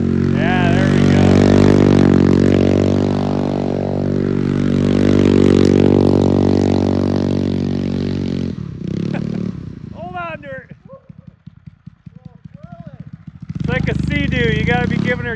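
A shredder vehicle's engine roars and revs steadily while doing donuts, a loud droning tone that drops off midway into choppy idling clatter before rising again, with people talking over it.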